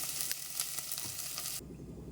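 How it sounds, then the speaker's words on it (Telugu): Green chillies and chopped onions fry in a pan as a base for rasam, giving a continuous bright sizzle with faint stirring scrapes, near and moderately loud, before it suddenly drops away. "కొంచెం బాగా వేగల పచ్చిమిరపకాయలు, ఎర్రగడ్డలు కొంచెం వేగనిద్దాం."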